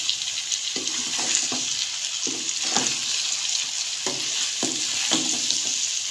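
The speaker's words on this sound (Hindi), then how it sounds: "एक से दो मिनट में इसको भून लेंगे हम ऐसे ही" Spices with chili frying in a pan for a potato curry, giving a steady bright sizzle with intermittent scraping clicks as a spoon stirs, close and continuous with no talking.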